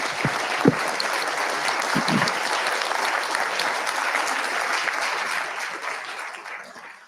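Audience applause for presenters at a discussion event, a sustained even wash of clapping with a few sharp close claps at the start, gradually fading toward the end.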